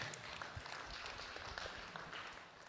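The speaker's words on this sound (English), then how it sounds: "You can clap for that." Audience applause at a church sermon on generosity: a steady, faint patter of clapping holds for a few seconds, then thins slightly toward the end.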